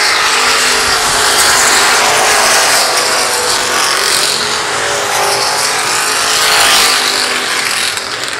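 Race cars roar around a dusty speedway dirt track in a loud, continuous engine wash that swells and fades slightly as cars pass, with no talk over it.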